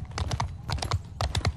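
Horse hooves clip-clop in the video game Mount & Blade II Bannerlord, a run of quick thudding footfalls in uneven clusters, close and moderately loud, with no voices.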